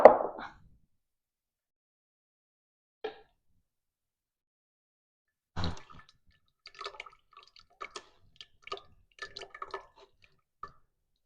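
Homemade tamarind juice is poured a little at a time, giving a loose scatter of quiet drips and small plops, with a louder splash near the start and another midway, separated by stretches of near silence.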